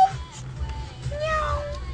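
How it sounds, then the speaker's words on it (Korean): Cat meowing in a long, drawn-out call near the start and a second rising-and-falling meow a little later, moderately loud over a low room hum, with no talk. "고양이 같아. 고양이 같은."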